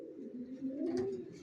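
Racing pigeons cooing softly inside a loft, a low, rounded murmur that swells slightly midway through a short stretch with no talking.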